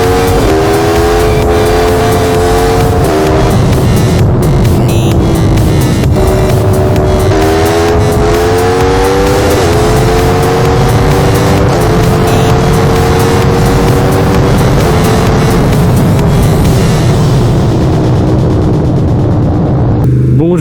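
Yamaha MT-10 2018 motorcycle engine revving hard and accelerating, loud and close, the rising engine tone climbing through gears in repeated surges with steady wind noise, a voice speaking over it.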